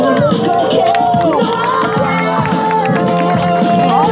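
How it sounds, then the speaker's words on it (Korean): Street magic busking crowd at Wolmido cheering and calling out loudly, a dense continuous hubbub of excited voices and shouts with music or tonal sounds underneath, steady throughout. "여러분들의 뜨거 박수가 필요합니다"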